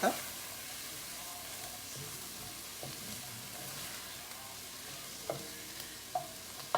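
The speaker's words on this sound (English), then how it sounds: "And we turn the carrots a little bit." Carrots stir and sauté in a pan over a gas flame for lentil soup, a soft continuous sizzle with faint scrapes and clacks of a utensil against the pan.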